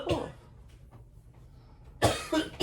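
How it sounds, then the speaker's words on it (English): A person coughs sharply once, then after a pause coughs twice more in quick succession, close and fairly loud. "Go ahead, you cough"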